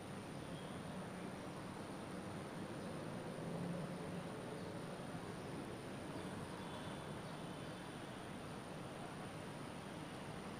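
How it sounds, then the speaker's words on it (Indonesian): A steady, broad rumble and whoosh of a Jabodebek LRT light rail train in motion toward Cawang, heard from inside, constant and moderately quiet throughout. "LRT yang ditumpangi oleh Presiden Joko Widodo berserta rombongan telah melaju"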